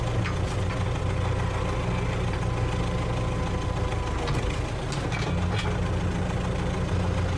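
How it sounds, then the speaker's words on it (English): A cartoon excavator works on a construction site, giving a continuous low engine rumble like idling, with a few faint clanks above it and no voices. "now our excavator will take the blue cylinder and will put it on the ground"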